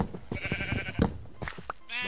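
A sheep bleats in the Minecraft FTB Continuum video game, a few short wavering bleats close by, with a voice briefly talking over them.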